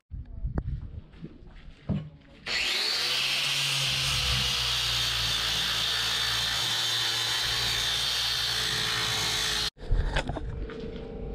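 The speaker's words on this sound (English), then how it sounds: "So let's get the grinder out again," An angle grinder grinds down a fibreglass boat rudder in one loud, steady burst of roughly seven seconds, a high whining hiss over a low motor drone, with handling knocks and a few talk-free noises before and after.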